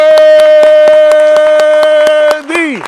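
A congregation at a livestreamed worship service claps in unison, sharp evenly spaced claps about every quarter second, loud and close over a sustained organ-like tone that slides away at the end.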